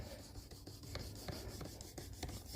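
A knife blade is drawn along a ceramic rod on a Work Sharp Precision Adjust sharpener, giving soft, close rasping strokes in an uneven rhythm at low volume.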